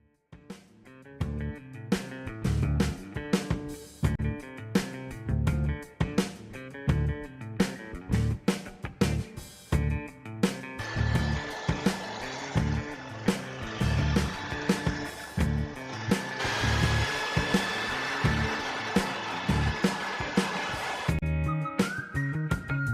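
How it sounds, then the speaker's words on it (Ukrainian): A 3D printer prints spare Y-axis parts for itself, its stepper motors giving steady whistling, tonal whines over a dense rhythmic patter of short movements that continues close and evenly throughout, with no talking. "першим ділом потрібно роздрукувати запасні деталі до принтера"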